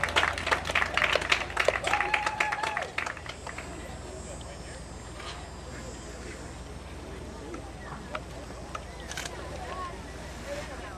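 A crowd applauds the winner at a show jumping grand prix, clapping loudly for about three seconds and then fading to a quieter murmuring arena, with an announcer talking over the ovation.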